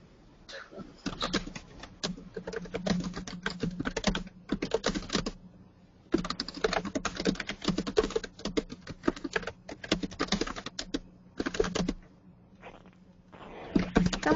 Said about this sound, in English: Someone is typing away, and that's all I hear.